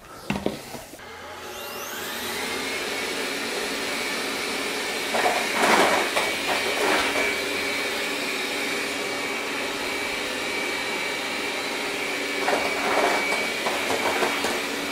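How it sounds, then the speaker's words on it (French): A Dreame Bot Z10 Pro robot vacuum whirs steadily with a broad rushing drone, with a few brief bumps and scraping surges as it climbs over a 2 cm high plate. "on va tester le franchissement de l'aspirateur avec une plaque"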